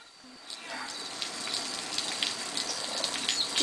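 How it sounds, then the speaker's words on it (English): Water poured from a watering can onto plants in the video game Viva Pinata, a soft, steady splashing trickle that holds through the clip at low level, with faint insect-like chirps in the background. "Just give them a little water."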